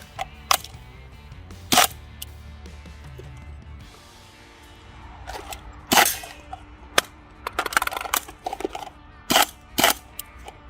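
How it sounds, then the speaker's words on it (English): Rifle emergency reload: bolt locking to the rear, magazine dropped and a fresh one seated, heard as a string of sharp metallic clicks and clacks at close range, with no talking. "Bolt lock to the rear, drop the magazine, get a new one"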